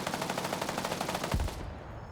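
A BMP armored vehicle in a military video game fires its main cannon in a rapid, rhythmic string of close, loud shots that stop abruptly, leaving a brief dull tail.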